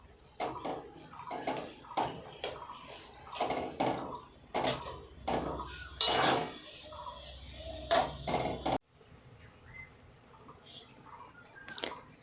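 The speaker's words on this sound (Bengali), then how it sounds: "এইভাবে খুন্তি দিয়ে একটু নাড়াচাড়া করে নেব যাতে ম্যাগিগুলো খুব সহজে খুলে যায়" A metal spatula stirs chicken Maggi noodles in a pan, making a series of close, rhythmic scraping strokes and light clinks that then stop, leaving only quiet room tone.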